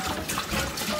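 Distilled water poured into a 2-gallon jug, a steady splashing gush that fills the whole second at close range, with no talk over it.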